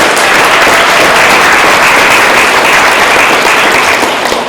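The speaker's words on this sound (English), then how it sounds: "Let's give them a round of applause." Loud, dense applause from a conference audience at an animal rights event, steady and sustained throughout with no voices over it.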